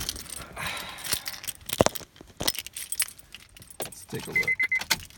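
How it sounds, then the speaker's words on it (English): Keys to a 2011 Honda Civic jingle and clink in bursts close by, with a brief spoken remark in the middle. "Let's see if I can get the keys in my hand here."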